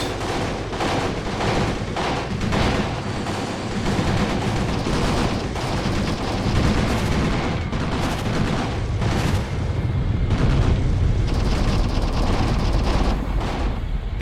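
Gunfire and artillery in a war video game set in the Battle of Cuito Cuanavale: dense, continuous volleys of rifle and machine-gun shots with heavy booming blasts, loud and unbroken throughout the clip.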